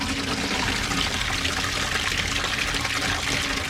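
Water gushes steadily into a container to rinse soapy .30-06 brass cartridge cases during reloading; a close, continuous pouring rush with no talking.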